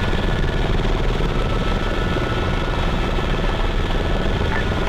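Helicopter in the video game Arma 3 makes a steady, loud rotor and engine drone that holds constant and close throughout, with no speech.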